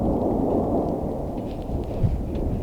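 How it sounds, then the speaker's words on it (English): Loud, close thunder from a huge thunderstorm overhead, a continuous deep rumble that swells and rolls for the whole stretch with no voices. "There's a huge thunderstorm over me right now."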